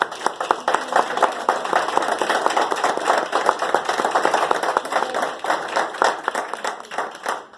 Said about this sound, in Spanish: Yo quisiera recibirlo con un aplauso.